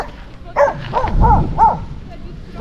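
Several dogs on a beach in Dangriga bark and yip in quick bursts at close range, a few rough barks spaced through the clip.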